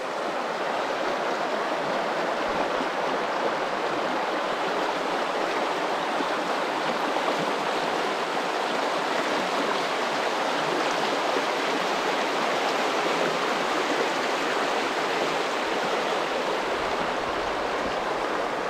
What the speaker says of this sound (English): That's the river I'm about to wade across.